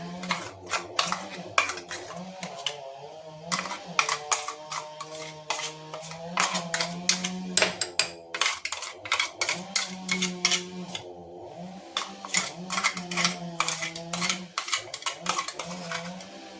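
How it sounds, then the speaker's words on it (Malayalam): Ground face pack paste of ragi and urad dal being transferred into another bowl: rapid, irregular metallic scraping and clinks of a spoon against the dish, close and fairly loud, with a voice talking underneath throughout. "അത് നമുക്ക് വേറൊരു പാത്രത്തിലോട്ടാക്കി കൊടുക്കാം"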